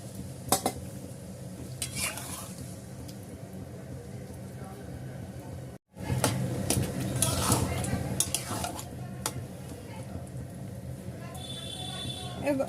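Water is added to a pan of spicy prawn and potato curry and stirred in, giving a steady wet scraping and clinking of a metal spoon against the pan, close and continuous, broken by a brief pause midway.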